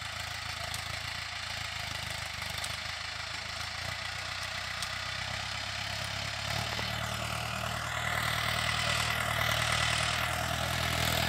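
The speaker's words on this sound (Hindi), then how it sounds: "ये महिंद्रा अर्जुन 555 अल्ट्रा वन से लेजर से खूड़ पाड़े जा रहे हैं" A Mahindra Arjun 555 Ultra tractor on 14-inch tyres cuts furrows in a field, its engine giving a steady loud drone that swells slightly toward the end, with no speech.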